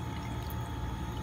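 A cup of water pours into roll cake batter made with strawberry fruit spread and eggs, a brief, close, steady stream with no talk over it.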